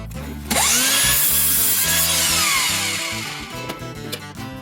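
A power saw cuts through pallet wood for a DIY decorative tray, with a loud continuous whine and a rising and falling pitch as the blade bites. Rhythmic tonal bands from the motor run underneath, and the noise tapers off near the end.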